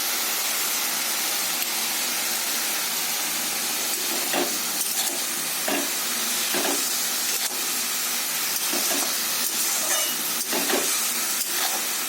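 Bottle gourd seasoned with turmeric and salt fries in a hot pan, giving a loud continuous hiss of steam and sizzle with occasional stirring scrapes up close.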